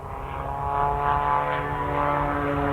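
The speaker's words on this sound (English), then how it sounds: "I can't talk over the noise of that airplane." A propeller aerobatic airplane performing at the 1995 Aviation Heritage Air Show in Clark County, Indiana, drones loudly and steadily overhead, its engine tone swelling slightly with no speech.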